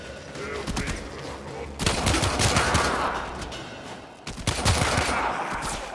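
Rapid automatic gunfire from the player's weapon in the PC video game Warframe, loud dense bursts of shots with brief pauses between volleys, no voices.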